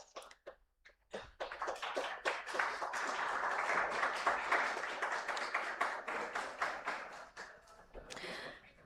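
An audience at a tech conference on AI and defence gives a round of applause for a panel moderator, scattered claps building quickly into dense, steady clapping that holds and then thins toward the end.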